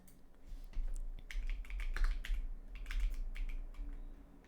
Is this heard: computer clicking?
yes